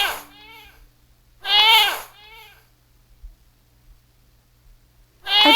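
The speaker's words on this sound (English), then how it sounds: "A goat makes this sound." A goat bleating, with three loud wavering calls separated by pauses, close up and alone, with no talking.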